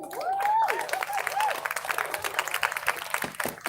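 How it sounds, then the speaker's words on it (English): Crowd applause at an outdoor political rally at La Raza Park, dense clapping with a few cheers and whistles, moderately loud and sustained throughout. "Y'all can clap for that side."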